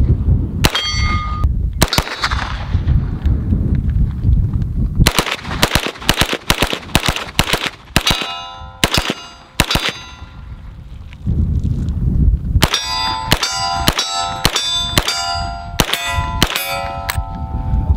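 An HK pistol fires semi-automatic shots at a steel target, each crack followed by a bright metallic ring, in several quick bursts of evenly spaced shots with short pauses between groups, loud and close.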